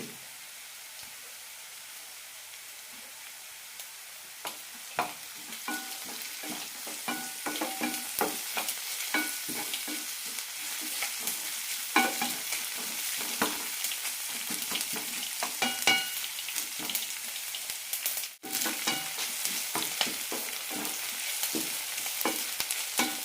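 Onion with chopped green chillies frying in a pan for tomato curry, a steady close sizzle broken by frequent spoon scrapes and stirring clatter across the whole stretch.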